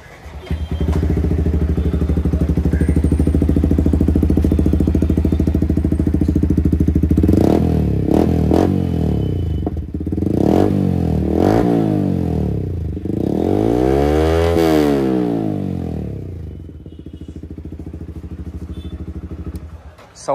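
A modified Yamaha R15 V4 motorcycle fitted with an aftermarket exhaust idles loudly, then revs up in several sharp throttle blips and rises in a long climbing rev before settling back to idle, close by.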